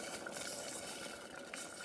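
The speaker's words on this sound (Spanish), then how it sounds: "La voy a sofreír un ratito y después la voy a agregar agua" Sauce frying in oil in a small pot, a faint steady sizzle and crackle with occasional light pops, close and uninterrupted by talk.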